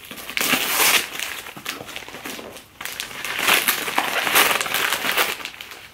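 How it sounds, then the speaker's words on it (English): Wrapped Christmas gift being unwrapped at a stocking gift exchange: paper crinkles, tears and crumples in steady rustling bursts close by, with a short lull midway before the crackling picks up again. "I'm going to unwrap this last gift really quick"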